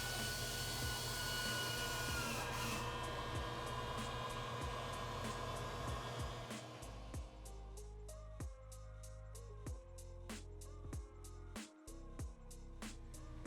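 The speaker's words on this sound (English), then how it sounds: "we can heat shrink our clamps" Heat gun blowing on heat shrink over hose clamps during an Odin/Loki install on a 2018+ F150, a loud steady whooshing hum for several seconds that cuts off, followed by scattered ticks and clicks.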